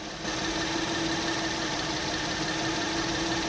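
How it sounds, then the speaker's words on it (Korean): A Hyundai Aslan V6 engine with 77,000 km idles steadily with a constant low rumble and a faint mechanical hum, continuous and close by, with no talking. "바로 엔진 소리 노킹이나 스커핑이 있는지 바로 들어보도록 하겠습니다"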